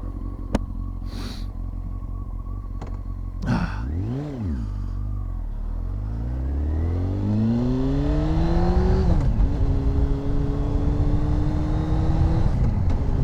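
A Honda 954 Fireblade sport motorcycle engine cranks and fires up, then revs repeatedly in rising and falling sweeps, growing louder and more sustained toward the end, close to the bike with no talking.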